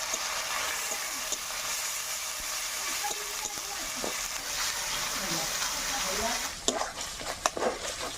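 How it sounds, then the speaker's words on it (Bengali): A ground paste of ginger, garlic, cumin and dried red chilli fries with onions in a pan for a cabbage dish, making a continuous soft sizzle, with stirring scrapes and a few clatters near the end. "মশলাটা আমি কষে নেবো পেঁয়াজের সঙ্গে"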